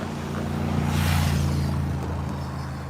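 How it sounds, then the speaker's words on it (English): Loud street traffic at a waterfront, a continuous low engine rumble and road noise with a vehicle swelling past midway, close and steady throughout. "I'm sorry that the traffic is loud."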